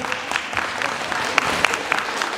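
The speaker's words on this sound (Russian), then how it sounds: "Аплодисменты." Applause from a pageant audience at a belly dance beauty and quiz contest, a steady patter of moderate clapping with a few sharper individual claps standing out, fairly close and continuous for a couple of seconds.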